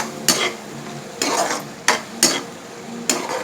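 Okra for an okra and prawn curry is stirred in a frying pan, with about five distinct scraping strokes over a soft, steady sizzle.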